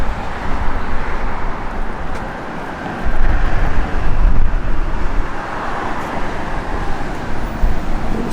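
A 1972 Plymouth Road Runner with a 440 V8, originally a 400 car, rumbles with a steady low engine drone that swells briefly louder partway through, no talk over it.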